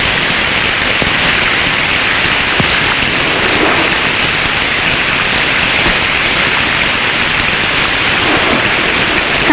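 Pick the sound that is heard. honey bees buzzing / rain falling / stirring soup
rain falling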